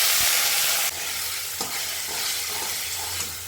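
Ginger, cumin, garlic and turmeric masala sautéing in a pan with a splash of water, stirred: a steady soft sizzle with scraping spoon strokes, close and continuous.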